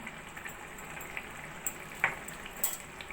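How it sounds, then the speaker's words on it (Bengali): Ghee and garam masala powder are stirred into a jackfruit curry in a pan over low flame, a quiet bubbling sizzle with occasional light scrapes and clinks of the spoon, close and soft. "ভালো করে মিশিয়ে নেব গরম মশলা ভালো করে মিশিয়ে নিয়েছি"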